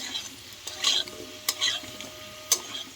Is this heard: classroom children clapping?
no